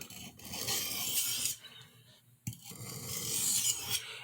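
A boning knife edge drawn along a honing steel to work off a burr, giving a steady raspy scraping for about a second and a half, a brief pause, then another longer stretch of close metal rubbing.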